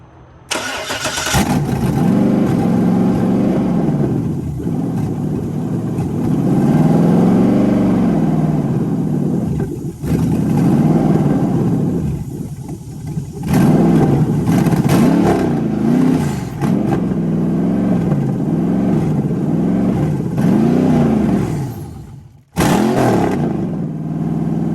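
A 5.3 LS V8 swapped into an old truck cranks, catches and roars to life, revving loud and close in repeated surges with brief dips between, running without a torque converter hooked up.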